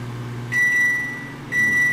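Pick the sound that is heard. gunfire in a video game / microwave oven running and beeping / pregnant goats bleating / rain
microwave oven running and beeping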